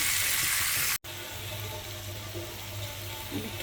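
Water poured into a pan of frying chicken masala with onion and garlic paste: a loud hiss cuts off abruptly, then a softer, steady bubbling simmer follows.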